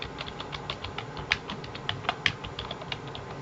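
Computer keyboard keys pressed in a quick run of light clicks and taps, close and distinct, with a few sharper keystrokes standing out and no talking.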